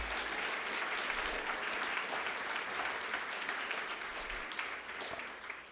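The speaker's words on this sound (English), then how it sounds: "give a large round of applause to our 9 finalists seated here in the front" An audience at a poetry slam gives a sustained round of applause for nine finalists, dense even clapping heard from within the room that trails off slightly near the end.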